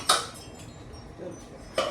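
Dishes, pots and utensils clatter as they are washed in a home kitchen, with two sharp metallic clinks a couple of seconds apart, close by and without speech.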